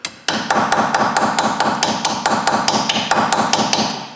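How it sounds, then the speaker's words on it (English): Rapid, loud metal-on-metal hammer blows bashing a broken drill bit while working on a Ford Ranger, about four strikes per second in a continuous close run with no speech. "Drill bits are pretty hard, so usually you get in there,"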